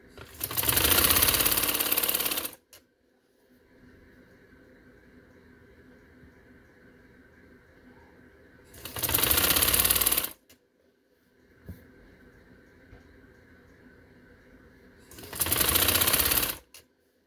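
A sewing machine stitching border lace runs in three loud bursts of fast, even whirring, each a couple of seconds long, separated by quiet stretches with a faint background hum.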